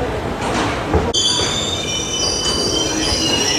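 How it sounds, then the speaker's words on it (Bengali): The 18011 Chakradharpur Express pulls slowly out of Howrah station on a winter night. Loud, close rumbling gives way to piercing, sustained wheel squeals on the rails. "অবশেষে ট্রেন আমাদের ছাড়লো, যাচ্ছে গরুর গাড়ির মতো যাচ্ছে।"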